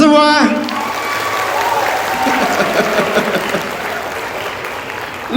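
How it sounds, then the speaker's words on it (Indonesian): Student audience at a university orientation event applauding together, steady broadband clapping sustained for several seconds with voices and cheering mixed underneath, starting right after a speaker's harmonic voice. "Oke, tepuk tangan buat kita semua."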